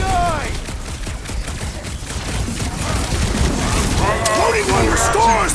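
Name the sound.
gunfire from a Guardians of the Galaxy video game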